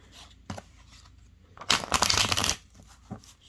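A deck of oracle cards being shuffled by hand, with a couple of soft taps followed by one quick riffling burst of papery flutter, close and fairly quiet, with no talking.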